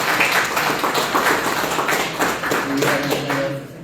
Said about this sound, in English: a round of applause for the chief here